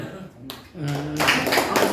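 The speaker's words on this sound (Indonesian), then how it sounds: "Tepuk tangan." A voice speaks briefly, then the audience at a monthly Islamic study session for blind participants breaks into loud, brisk group clapping.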